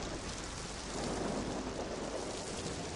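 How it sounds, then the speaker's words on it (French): Heavy rain pours steadily in a storm while low thunder rumbles underneath, a dense, loud wash of sound with no speech. "Je vais attendre la fin de cette tempête, même si je dois y passer la nuit"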